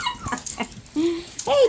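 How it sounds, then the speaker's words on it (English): Maltipoo puppies whimper and yip in high, thin, wavering cries, close by and brief, following a woman calling to them. "Puppies."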